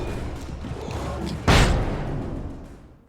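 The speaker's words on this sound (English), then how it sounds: "How did a flashbang kill me?" A flashbang goes off in the video game Alan Wake: a single sharp, loud burst midway through, over a steady background of game ambience, then fading away.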